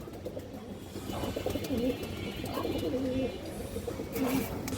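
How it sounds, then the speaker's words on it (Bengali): Soft repeated cooing of domestic pigeons, jutiyala birds with boot-shaped beaks, several low burbling coos in short phrases over a murmuring background, fairly close but quiet. "একদম বুট ঠোঁটের চুইঠাল বা জুটিয়ালা কবুতর"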